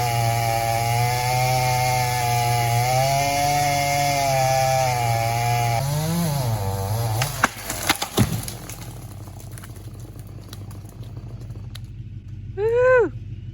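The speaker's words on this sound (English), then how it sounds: "Chainsaw." A chainsaw drones steadily while felling trees, its pitch rising and falling as it works, then cuts out into crackling, snapping wood and rustling.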